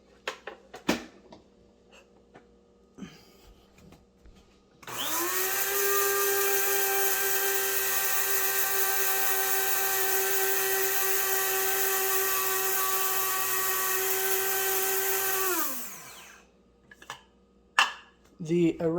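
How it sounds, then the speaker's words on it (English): An electric coffee grinder grinds coffee beans in a steady, loud, high-pitched whine for about ten seconds, then spins down, with small handling sounds before and after. "Let me plug in my grinder."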